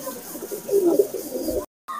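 Pigeons, imported high-flyer breeds, coo inside a loft in soft, low repeated calls, ending in a short silence before faint sound resumes.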